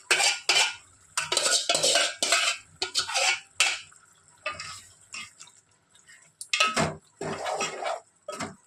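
A spoon stirs ingredients for saloi, a Banjara dish, in a metal cooking pot, giving repeated clanking and scraping bursts in uneven rhythm, close and fairly loud with short quiet gaps.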